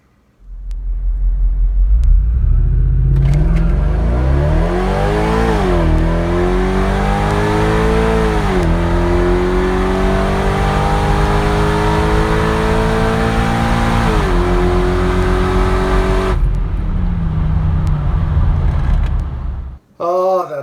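A supercharged Toyota Tundra's 5.7-liter V8 revs loud and close, its pitch climbing in repeated sweeps toward about 7000 RPM, dropping between each rise before cutting off near the end.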